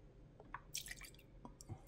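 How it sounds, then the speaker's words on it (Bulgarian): Milk poured into a SilverCrest milk frother jug, a short run of soft drips, splashes and gurgles lasting under two seconds, close and fairly quiet. "тук слагаме мляко, ето така"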